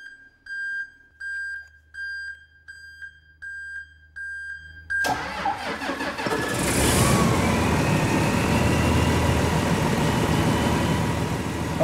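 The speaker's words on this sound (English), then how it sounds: "So to start the engine, we hit start." An engine on a test stand starts up after a run of short, regular electronic beeps, then catches and settles into a loud, steady running drone close by, with no voices.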